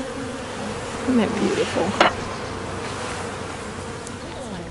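Honeybees buzz around a hive in a dense, continuous drone close by, while someone briefly speaks softly over the swarm.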